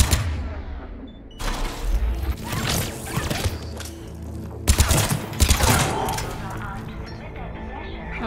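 Bursts of automatic gunfire and impacts in Mass Effect 3, loud and close in two main volleys, with a person talking over the shooting.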